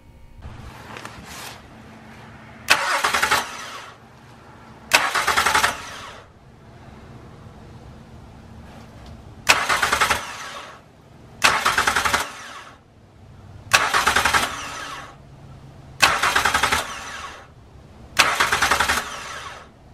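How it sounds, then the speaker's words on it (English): A car engine cranks over via a remote starter switch in repeated short bursts, about eight separate starter whirs spaced a couple of seconds apart, with quieter running in between. "as I crank the engine, I'm going to be able to look closely at the timing belt"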